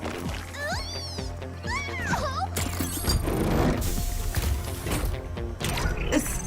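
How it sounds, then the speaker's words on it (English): A supply crate in a video game unlocks with a sequence of mechanical clicks, ratcheting and creaking, building into a louder clattering release, with tonal game effects sounding over the mechanism. "The supply crate has unlocked."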